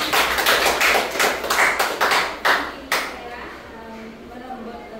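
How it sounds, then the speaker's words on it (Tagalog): Students in a Grade 10 classroom clap in a brief burst of distinct, fairly loud hand claps for about three seconds, then fall quiet with low room noise and faint talk. "Bigyan natin ng palakpak."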